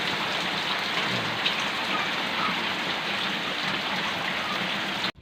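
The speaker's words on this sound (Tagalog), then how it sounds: "sobrang lakas ng ulan" Heavy rain pours steadily in a dense, continuous hiss, loud and close, ending abruptly.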